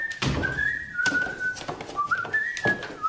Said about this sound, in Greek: εσύ σφυρίζεις